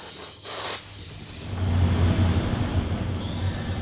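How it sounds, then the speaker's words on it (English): Iwata Eclipse HP-CS airbrush fitted with a 0.35mm needle sprays a base coat of paint across a canvas, giving a steady, close airy hiss that grows fuller after the first couple of seconds and runs continuously, with no talk. "I'm just doing a base coat over the entire canvas using my HPCS Iwata Eclipse"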